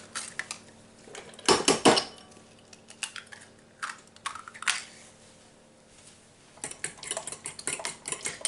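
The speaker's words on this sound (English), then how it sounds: "I'm just going to crack just a couple of eggs in this dish." Eggs are cracked into a baking dish, with sharp clinks and taps of shell against the dish, scattered knocks and light scraping nearby in a quiet kitchen.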